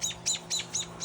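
A parent bird near its nest of baby birds gives five quick, evenly spaced high chirps, fairly close and moderately loud over a faint background.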